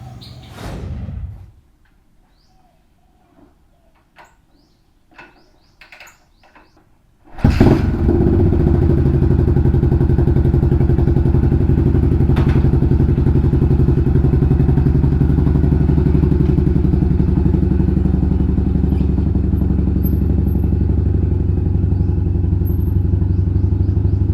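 After a few quiet seconds of faint clatter and thumps, a Yamaha SR400 motorcycle, overhauled and fitted with a Wisco 88mm piston, fires up. Its single-cylinder engine then thumps loudly and steadily, close by, through the rest of the clip.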